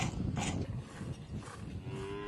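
Dairy cows mooing during milking on a cattle ranch in the Iberá wetlands, with several overlapping low moos in quick succession against steady barnyard background noise.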